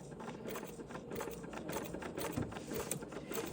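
A sewing machine with an open toe foot stitches embroidery lines in a short burst, a close, fairly quiet mechanical whir with quick needle ticks.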